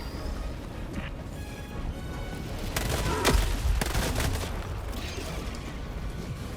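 Sentry turret in Helldivers 2 firing rapid bursts of gunfire, with booms and mechanical clatter amid ongoing battle noise, loudest around the middle and continuing steadily without speech.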